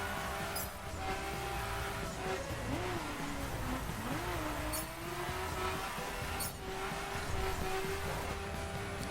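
A Nissan Skyline GT-R V-Spec R34 races in The Crew, its engine note rising and falling through gear shifts as a steady, moderately loud drone with a few brief tire and wind accents.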